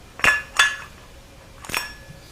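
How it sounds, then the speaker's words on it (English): Sealing rings on a stator being fitted into the drum during a 68RFE transmission rebuild: three sharp metallic clicks close by, two in quick succession, then a third after a pause. "sealing rings, and you hear where they click"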